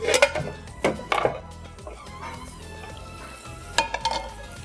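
Onions frying in a pan, with several sharp scrapes and clinks of stirring over a low steady sizzle, close and alone.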